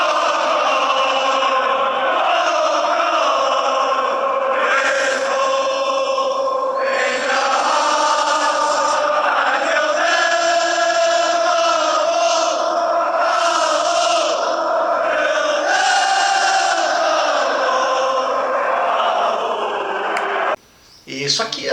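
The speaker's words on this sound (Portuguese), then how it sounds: "a torcida do Celtic, um time de Glasgow, lá na Escócia, cantando na arquibancada em apoio à Palestina" Celtic football supporters in a Glasgow stadium chant together in the stands in support of Palestine, a loud, continuous massed crowd song with sustained voices and no pauses until a brief drop near the end.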